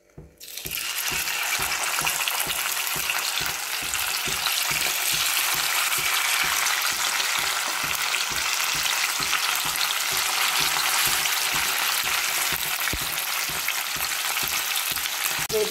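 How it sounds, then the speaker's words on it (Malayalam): Mackerel coated in masala fries in a pan, a loud, close and steady sizzle with dense crackling and a rapid, regular popping rhythm that continues without talk. "നമ്മുടെ അയല നല്ല മസാലയൊക്കെ ചേർത്ത് പൊരിച്ചെടുക്കുന്നുണ്ട്"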